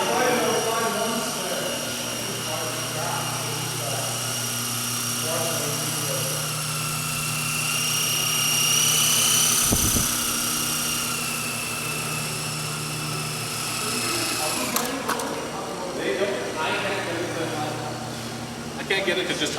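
A Blade 120 SR radio-controlled helicopter hovers indoors in a basement, its rotor and small motor giving a steady close whine with slight pitch drift, under intermittent talk from people nearby.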